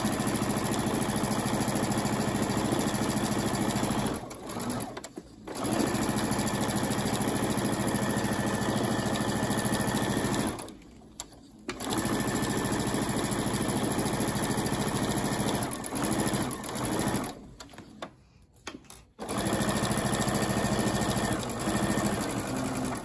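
A sewing machine straight-stitching around the edge of a fabric leaf placemat, running in long steady whirring bursts with three short pauses, close and fairly loud, with no talk.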